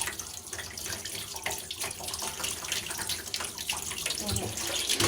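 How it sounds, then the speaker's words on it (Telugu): Water runs steadily from a tap while dough is rinsed by hand. The splashing flow is close and fairly quiet, with no talking. "మామూలుగా నీళ్ళు వస్తున్నాయి"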